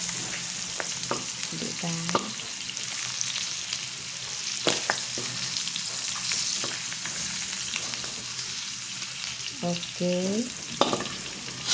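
Garlic and onion frying in oil give a steady, close sizzle with occasional stirring scrapes, while someone speaks briefly over it.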